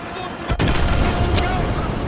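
An AGM missile striking an enemy helicopter in Call of Duty: Modern Warfare 2, a sharp close blast followed by sustained heavy rumbling, with radio voices faintly audible beneath.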